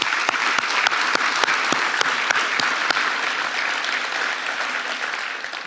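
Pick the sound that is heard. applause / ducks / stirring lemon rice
applause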